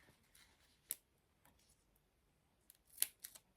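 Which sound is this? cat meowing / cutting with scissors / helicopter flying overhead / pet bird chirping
cutting with scissors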